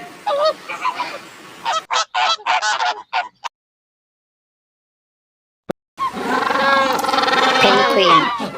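A flamingo gives loud, goose-like honking calls in a choppy series, then there is a stretch of silence, a single click, and a sustained burst of harsh honking or voice.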